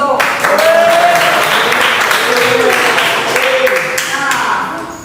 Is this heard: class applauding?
yes